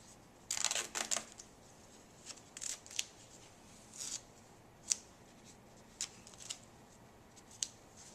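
Adhesive tape is pulled and pressed down to secure IV tubing looped on a patient's limb, giving a cluster of short, crisp crackling rips early on, then sparser quiet taps and rustles with no talking.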